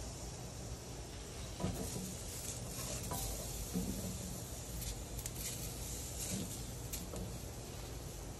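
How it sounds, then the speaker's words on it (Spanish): Garlic cloves sizzle in a cast iron pan where meat is being seared, a steady close frying hiss running throughout with faint clinks of cookware. "En una esquina del, del cast iron vamos a ponerle unos dientes de ajo."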